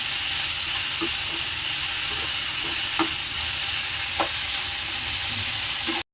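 Curry leaves crackle and sizzle in hot oil, a loud continuous frying hiss with scattered sharp pops and light stirring taps.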